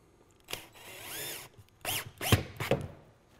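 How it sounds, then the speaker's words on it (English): A power drill whirs in several short bursts, rising and falling in pitch as it pre-drills a hole into a wall, with brief pauses between. "I like to pre-drill a hole."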